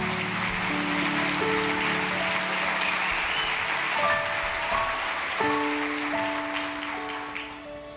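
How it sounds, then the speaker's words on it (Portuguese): A church congregation applauds in a steady, dense wash of clapping over sustained instrumental keyboard tones, continuing for the whole stretch before tapering slightly at the end. "Aplauda mais forte ao nome do Senhor Jesus."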